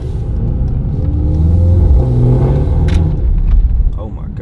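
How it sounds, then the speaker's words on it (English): Mercedes-AMG GT63s in race mode, its exhaust droning loudly and steadily with revving swells while heard from inside the cabin, with a voice briefly speaking over it. "we're gonna crack the back window just a tad bit so y'all can hear the exhaust"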